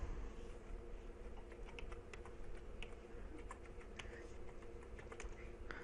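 A password being typed on a computer keyboard, a steady run of quick, light key clicks close by over a low hum, with no speech.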